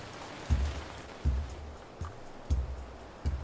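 Rain falls in the Ancient Cities video game, a soft steady hiss with a few dull low thumps spaced through it. No one speaks.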